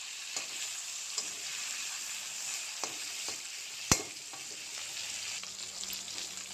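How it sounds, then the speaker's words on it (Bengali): Fish pieces seasoned with salt and turmeric fry steadily in hot oil in a kadai, a continuous broad sizzle with a few soft clinks and one sharp utensil knock near the middle, no voices. "এই যে কি সুন্দর মাছ ভাজা হয়ে গেছে"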